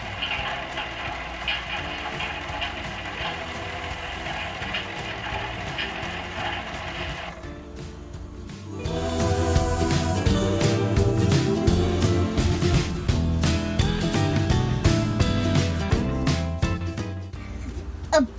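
A toy washing machine whirs and rattles steadily with mechanical clicking, shifting to a louder, busier churning partway through; no voices.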